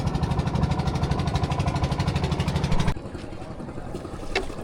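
An engine-driven boat on a ride from Jaflong Zero Point chugs loudly and steadily in a fast rhythmic pulse, then drops suddenly to a quieter, smoother hum with faint splashing.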